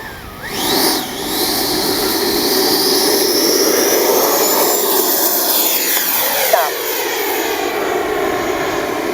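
A loud turbine on an FMS Avanti S 90mm RC model jet with a KM afterburner roars steadily, with a rising whine and a sweeping pitch shift as it passes fairly close.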